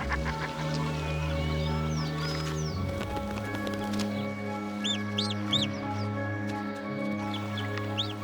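In the Scottish Highlands, a mother duck calls her ducklings, with short quacking calls and a few high peeping chirps over a steady background of tonal music.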